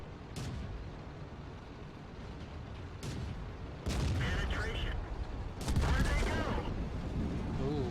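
A World of Tanks match with a tank ammo rack explosion and gunfire: several sharp booming blasts cut through a constant background roar of battle, each followed by crackling debris.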